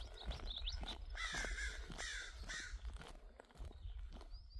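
Crows caw repeatedly and loudly nearby, harsh calls overlapping in irregular bursts over a low outdoor rumble, with other birds chirping faintly.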